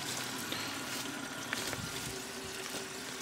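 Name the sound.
clogged lowboy toilet bowl filling with water after flush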